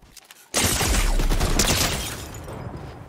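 One sharp, loud gunshot in Fortnite bursts out after a quiet moment, followed by a long booming tail that slowly fades.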